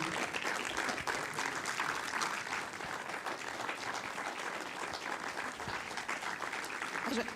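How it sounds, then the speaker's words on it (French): A cinema audience at the Palace in Brussels applauds the film's director and team, a steady, fairly soft wash of many hands clapping without a break for over seven seconds. "Valérie Rosier, vous pouvez l'applaudir."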